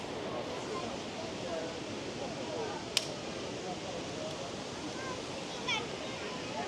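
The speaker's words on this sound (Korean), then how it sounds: "짠! 여기가 우라이 폭포." Wulai waterfall in Taiwan gives a steady, even broadband roar of falling water throughout, with a faint sharp click near the middle and no clear talk above it.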